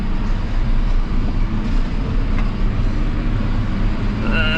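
A tractor engine labours under a heavy load up a hill, a loud, steady, close drone that holds throughout.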